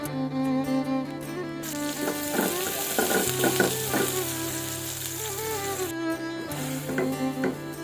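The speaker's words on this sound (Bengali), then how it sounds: "হলুদের গুঁড়া মরিচের গুঁড়া লবণ সব দিয়ে কষিয়ে নিচ্ছে ভালো করে মশলা কষানো হয়ে গেছে" Onion, garlic, tomato and green chili are sautéed in a pan with turmeric, chili powder and salt for a Chittagong sea-fish curry. A continuous sizzle carries stirring scrapes and clanks, with tonal music playing in the background.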